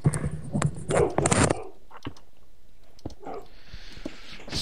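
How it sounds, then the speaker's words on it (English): Dogs bark loudly in a home during a Minecraft gaming session, several close, sharp bursts packed into the first second and a half, followed by quieter room noise with faint clicks. "Wow, your dogs are loud."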